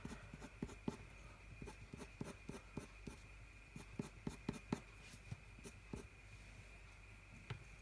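A Prismacolor colored pencil scratches across paper in quick irregular strokes, faint and close, a soft continuous scratching with sharper taps as each stroke lands.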